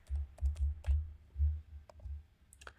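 Quick typing on a computer keyboard, a few short bursts of close, crisp key clicks while entering a search, alone in a quiet room.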